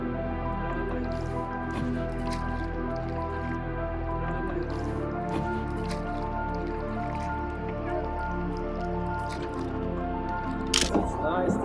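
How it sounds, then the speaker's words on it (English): Oars dip and drip in the water while rowing a boat on Lake Braies in the Dolomites, soft splashes and trickles recurring under steady talk. "We are rowing."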